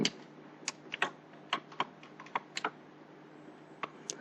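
Keys clicking on a computer keyboard while watermark text is typed into a Microsoft Word document, a quiet irregular run of a dozen or so sharp taps with short pauses, close and alone.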